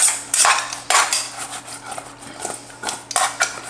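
Potato wedges are tossed in a bowl to coat them, giving repeated loud clattering scrapes against the bowl in uneven bursts, with no talking.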